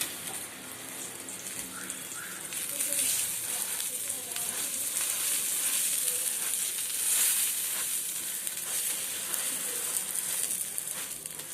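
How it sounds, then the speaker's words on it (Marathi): Pav bread rolls frying in ghee on a hot pan give a steady, moderately loud sizzle with a faint watery hiss running throughout, with no talking. "ते तूप लावून घ्या आणि आपण आपले पाव फ्राय करून घेऊया"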